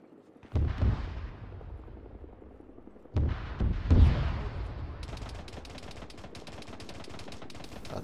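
Bursts of automatic gunfire aimed at a Hind attack helicopter in the military game ArmA 3, with two heavy volleys early on, then a sustained rapid rattle of shots continuing steadily to the end.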